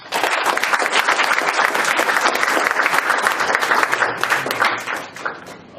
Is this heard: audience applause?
yes